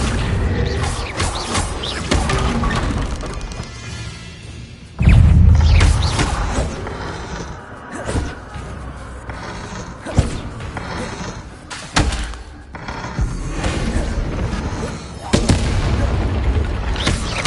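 Spell effects cast in Hogwarts Legacy on PS5 during a haunted Hogsmeade shop quest: a run of loud booming blasts, slams and thuds, with a heavy low impact near the five-second mark and further sharp hits spread through the fight, over game background and some voice.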